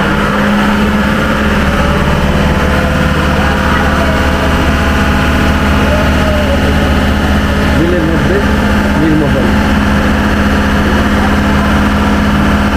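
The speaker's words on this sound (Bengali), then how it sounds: "তো বোট ছাড়লো আমাদের" A boat engine drones steadily and loudly as the boat departs for Neer Mahal near Agartala, a constant low hum throughout with people talking over it.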